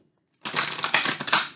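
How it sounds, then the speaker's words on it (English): A deck of tarot cards (John Holland deck) is shuffled by hand, giving a close, continuous papery riffling and rustling that starts abruptly after a brief silence and lasts to the end. "love the shuffle"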